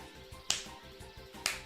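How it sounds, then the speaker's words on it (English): Two crisp claps about a second apart from a video game character's slow clap in Kingdom Hearts Birth by Sleep, over a low game background hum. "He just does like a slow clap and everything."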